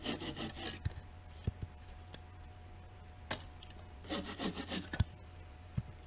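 A hand saw with painted teeth cuts wood at a backcountry camp, with two short bursts of rapid rasping strokes separated by quiet pauses and scattered knocks, all near and alone.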